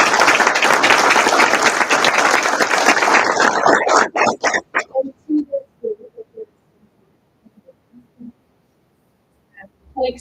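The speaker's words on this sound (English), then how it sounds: "So help me give them a round of applause." Audience applause at a veterinary medicine school white coat ceremony, loud sustained clapping that breaks into scattered individual claps and fades out.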